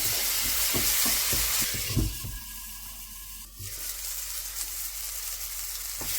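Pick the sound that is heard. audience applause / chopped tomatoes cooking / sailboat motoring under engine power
chopped tomatoes cooking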